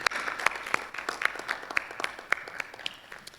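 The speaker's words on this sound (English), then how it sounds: "How about another round of applause for Miss Ashley?" A small audience claps for Miss Ashley after her acoustic guitar song, faint and sparse, with distinct individual claps ringing out in an uneven rhythm.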